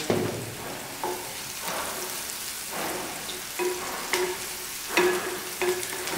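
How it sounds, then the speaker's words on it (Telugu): Onions sizzle and fry in a pan with salt and turmeric, a steady crackling hiss broken by repeated stirring scrapes, close up with no voices. "ఆనియన్స్ మంచి తొందరగా ఫ్రై అవ్వడం కోసం ఉప్పు వేస్తున్నాను"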